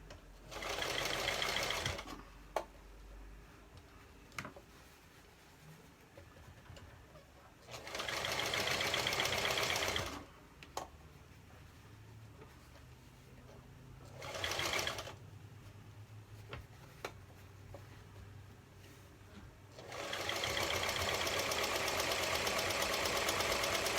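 A sewing machine stitches a nylon face mask in four bursts of steady mechanical whirring, each a few seconds long, separated by quiet pauses.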